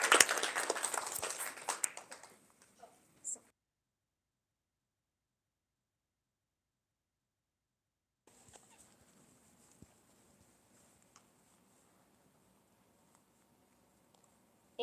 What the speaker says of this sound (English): Let's have a round of applause for Oren.